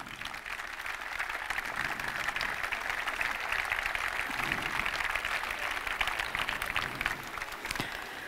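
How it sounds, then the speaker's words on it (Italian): Spectators at the official presentation of the Carpegna Prosciutto Basket Pesaro team for the 2024/2025 season keep clapping steadily. The applause sounds somewhat distant and holds an even level, with faint crowd noise underneath. "Facciamoci un applauso."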